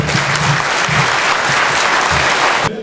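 Enthusiastic applause for the mayor at an oil wrestling workshop gathering, a loud sustained burst of many hands clapping that cuts off abruptly at the end.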